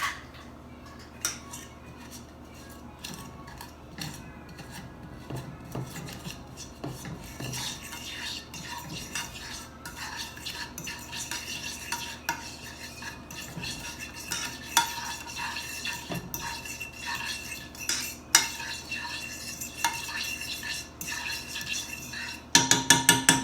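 A utensil stirs brown sugar into a glaze in a pan on the stove, with steady scraping and clinking against the metal for the whole stretch, plus sharper clatters near the end and no talking.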